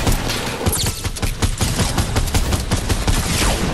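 Gunfire in the video game Fortnite: dense, continuous volleys of overlapping shots and cracks, loud and chaotic throughout with no pauses.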